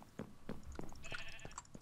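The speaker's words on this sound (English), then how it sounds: "I'm killing the sheep." Sheep in the video game Minecraft bleating in a short series of quiet, repeated bleats with faint game sounds in between.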